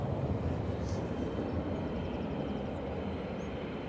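ATR turboprop aircraft taxiing at Edinburgh Airport, a steady low rumbling engine drone with broadband roar, continuous and fairly loud throughout, no voices.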